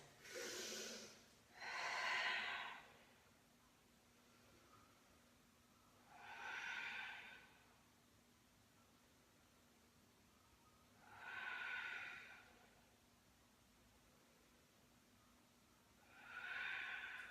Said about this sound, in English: We'll have 4 breaths here, 4 deep breaths.